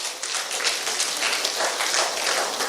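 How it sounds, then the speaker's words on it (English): Audience applause at a Plateau State event, moderately loud steady clapping from a crowd lasting a few seconds with no voices over it. "Can we give Plateau State a round of applause?"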